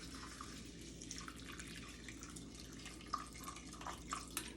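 Water poured into a pot of flattened oats on a stovetop burner, a steady faint trickle and splash with a few drips, close by and with no talk.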